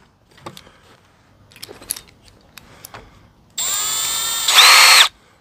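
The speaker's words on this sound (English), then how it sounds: "We're going to drill a sample hole" A few light clicks and taps, then a power drill whines loudly for a second or two drilling a sample hole in a camper, rising in pitch before stopping.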